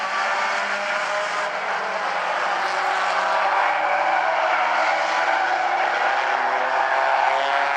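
Race cars in a Bumblebees class main event at South Sound Speedway roar back up to speed on a green-flag restart, a loud, steady, dense engine drone filling the whole stretch without a break.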